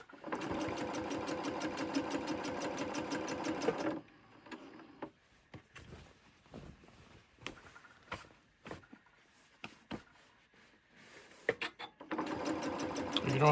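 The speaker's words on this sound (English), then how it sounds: "you said that I needed to back stitch on this as well, tack down, right?" A sewing machine runs in a fast rhythmic chatter while back stitching a shirt side seam, then pauses for soft handling clicks and rustles before starting up again. Quiet talk is heard in between.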